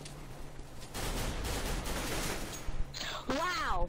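Rapid gunfire from Counter-Strike: Global Offensive rattles in a sustained burst of shots, fairly faint in the mix, with a player's voice cutting in near the end.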